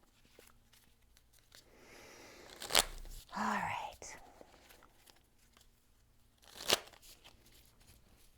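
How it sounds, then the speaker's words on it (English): Tarot cards shuffled by hand in two short, loud riffling bursts a few seconds apart, with a soft voice speaking briefly between them and faint rustling in the quiet gaps. "let me just shuffle a couple more times"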